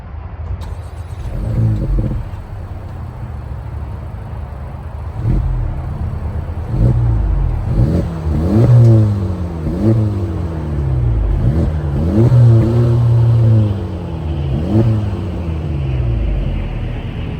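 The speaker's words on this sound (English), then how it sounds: "At the bottom, you'll find 3 exhaust tips down below, so that means we're going to listen to it from the outside." A 2024 Acura Integra Type S with triple center exhaust tips, heard from outside, revs repeatedly, its engine note climbing and falling in a series of loud, close blips over a steady idle rumble.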